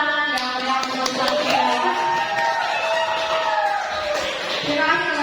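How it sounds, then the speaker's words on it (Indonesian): Audience at a school presentation on positive culture applauding and cheering, with voices shouting and whooping over scattered clapping; the mix of voices dominates throughout. "Ya, kita beri tepuk tangan"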